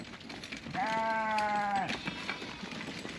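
A sheep gives one clear, steady bleat of about a second at moderate distance outdoors on a farm, with a faint background hum and no talking.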